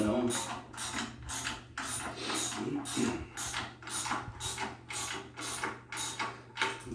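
Rapid ratchet clicks in regular bursts as a bolt is run down on a GT40 transmission adapter plate, close and steady over a low background hum, repeating about a dozen times.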